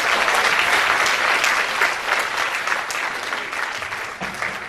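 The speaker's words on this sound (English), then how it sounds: "A big round of applause, ladies and gentlemen." Audience applause from a crowd at a live event, dense and steady clapping close by, tapering slightly toward the end.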